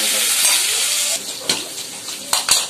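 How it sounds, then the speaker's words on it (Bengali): Eggplant pieces fry in hot oil in a pan, giving a close, steady sizzle broken by a few sharp stirring clicks and scrapes. "বেগুন গুলো আমি একটু ভেজে নিচ্ছি"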